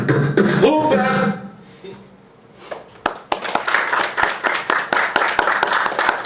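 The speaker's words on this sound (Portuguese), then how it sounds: "Depois da gravação, coloca mais palmas para aparecer assim." Hand clapping added over a recording: a voice speaks first, and after a short pause a run of sharp, repeated claps follows, fairly close and loud.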